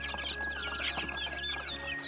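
Chicks cluck and peep steadily while pecking at chick feed on a Hmong hill-village farm, a busy, close cluster of soft calls over a low hum.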